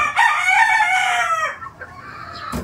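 A gold stag gamefowl rooster of Golden Boy Sweater breeding crows once, loud and close, with a long drawn-out call that fades, followed by a brief knock at the end.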